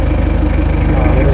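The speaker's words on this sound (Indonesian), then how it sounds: "Nah, ini suara gas mesin diesel." A Land Rover diesel engine runs just after starting, giving a loud, steady, low idling rumble with a fast regular throb throughout.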